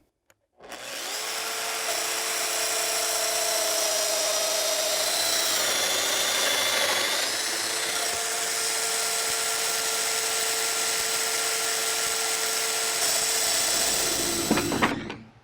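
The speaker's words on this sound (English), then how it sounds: "I've cut all 24 mortises with the domino machine, and that will draw everything tight" A domino joiner cuts mortises into a wooden door frame, a loud, steady high-pitched power-tool whine that holds for about fourteen seconds with a slight shift in pitch midway, then stops abruptly.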